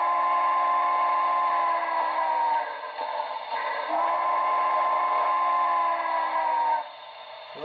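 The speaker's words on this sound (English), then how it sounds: "This is the factory default whistle." A model 2-10-2 steam locomotive's factory default whistle sounds in two long, steady blasts, a brief gap between them, loud and close with a reedy, chord-like tone.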